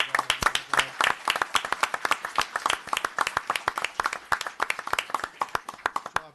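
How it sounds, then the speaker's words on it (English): Audience at a town board meeting claps for a local unit and its leaders, a steady patter of many hands close by with irregular sharp claps throughout. "If I could get a round of applause for our"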